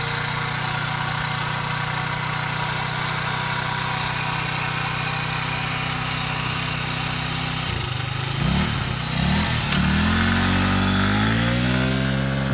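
An IRBIS Z50R 50cc scooter engine idling steadily nearby after starting, a continuous buzzing putter that rises in revs with a couple of throttle blips near the end.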